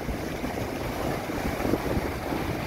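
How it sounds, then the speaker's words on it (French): Continuous rushing of sea waves at a beach in Peniche, Portugal, with heavy wind buffeting the microphone, a steady, loud wash of noise without breaks. "Regarde les vagues."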